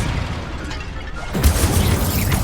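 A Confringo blasting curse goes off in Hogwarts Legacy, a loud, deep boom bursting out partway through and ringing under dense spell-combat noise, with no voices heard.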